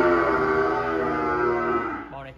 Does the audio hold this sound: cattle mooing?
yes